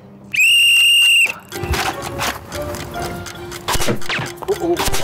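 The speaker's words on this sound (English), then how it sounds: "I'm gonna blow the whistle." A whistle sounds once to start a children's race among park rangers: one loud, sustained shrill blast of about a second, then clatter and scattered shouts as the race begins.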